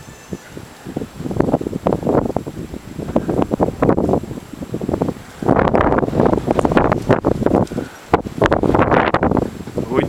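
Strong gusty winter wind in the settlement of Novoekonomicheskoe buffets the microphone in loud, uneven bursts, easing briefly before a heavier run of close, rumbling gusts.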